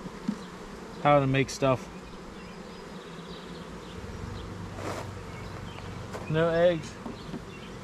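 Honeybees buzzing around a honeybee nuc hive with comb-building problems, a close, wavering drone from individual bees passing near, with someone speaking briefly over it.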